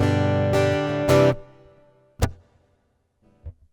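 A few guitar chords strummed through a Yamaha THR30IIA amp with its reverb turned up, left ringing with a spacious reverb tail, followed by a couple of sparse plucked notes fading into quiet.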